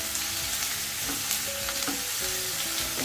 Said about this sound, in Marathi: आणखी थोडा घालते हे थोडंसं शिल्लक ठेवते छान परतून घेते